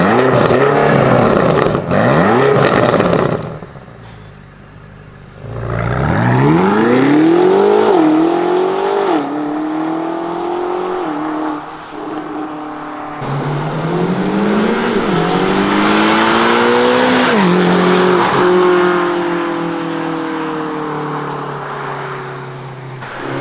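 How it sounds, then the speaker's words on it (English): A 2024 BMW XM's powerful V8 engine, fitted with Racewerks downpipes, revs hard, then roars past in loud flybys, pitch climbing through the gears and dropping away, with occasional tire noise. "Fudge, let's get some flybys and let the viewers hear it"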